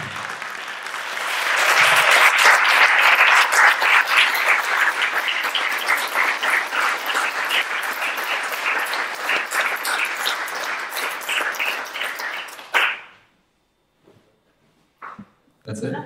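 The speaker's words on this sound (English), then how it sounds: "A big applause for Lilith, please." Audience at a talk on queerness and postcolonial global perspectives breaks into sustained applause that builds, holds loud for about ten seconds, then cuts off, followed by a few brief sounds in near silence.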